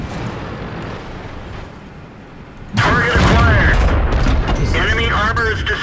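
Artillery in World of Tanks hits with a sudden heavy boom, preceded by low rumbling ambience, as a voice and battle noise follow.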